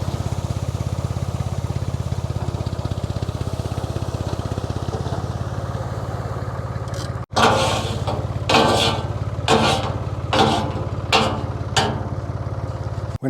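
A 1982–83 Ford 3610 farm tractor runs steadily on an olive farm in Portugal, its engine a constant low, throbbing drone that continues through a later stretch of louder, irregular clattering and knocking.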